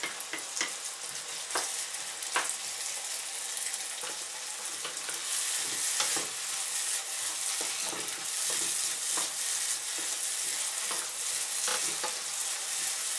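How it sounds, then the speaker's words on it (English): Onions frying in a pan for Chinese beans with ground pork, a loud, continuous close sizzle with frequent spoon scrapes and stirring knocks, and nobody speaking. "This we will give a good fry so they get bright and start"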